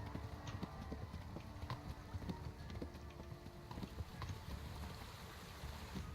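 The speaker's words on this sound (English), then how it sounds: "now that you've got your own horse, you can call it at any time." Horse hooves clip-clop in a steady walking rhythm in the video game Kingdom Come Deliverance, moderately close and continuous over soft ambient background noise.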